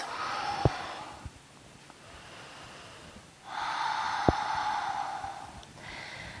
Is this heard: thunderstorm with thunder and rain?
no